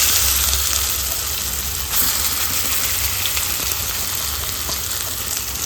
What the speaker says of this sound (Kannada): ಚೆನ್ನಾಗಿ ಒಂದು 3 ನಿಮಿಷ ಮಾವಿನಕಾಯಿ ಪೇಸ್ಟನ್ನು ಫ್ರೈ ಮಾಡಿ